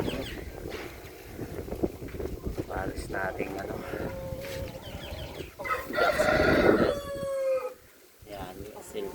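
Roosters and hens, including a black Brahma, cluck and crow close by in a backyard flock, with one drawn-out crow standing out, while someone talks over the birds.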